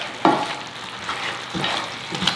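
A spoon stirs pork ribs and bagoong shrimp paste sizzling in a pan, giving a few scraping strokes over a steady frying hiss, close and clear with no talk.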